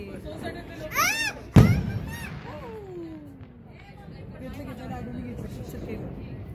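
On a rooftop terrace at New Year's midnight, a rising whistle is followed by one sharp, loud firecracker bang, then distant crowd babble and nearby voices.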